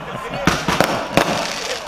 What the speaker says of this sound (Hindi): 80 पटाखे हैं एक साथ